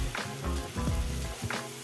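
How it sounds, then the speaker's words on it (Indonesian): Carrots go into a frying pan and sizzle loudly, with bursts of crackling and stirring scrapes recurring across the short stretch and no speech. "Lalu kita masukkan wortel."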